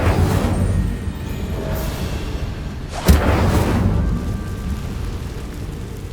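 A fire spell cast in Hogwarts Legacy, a magical whoosh of flame: a broad rumbling roar throughout with one sharp burst near the middle, loud and close, no voices.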